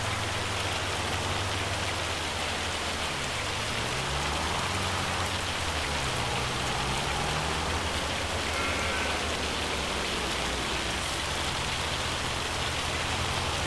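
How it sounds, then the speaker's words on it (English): Rain in Farming Simulator 25, a steady, even hiss of falling rain and drops striking surfaces, with low engine hum beneath, unbroken throughout and with no talking. "Man, this rain is really complicating my driving."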